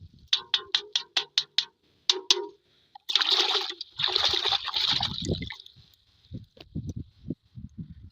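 A spray machine filter is washed in a bucket of water, giving a few seconds of sloshing and splashing between clicking and clattering handling sounds, close and moderately loud.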